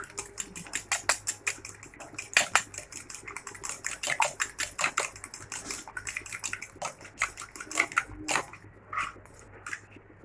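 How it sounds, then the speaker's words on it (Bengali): Eggs cracked into a bowl and beaten briskly before frying on a tawa: a fast, steady run of sharp clicking taps, close and fairly loud, with a brief pause near the end. "ডিমটা আমরা ফাটিয়ে নেবো ভালো করে।"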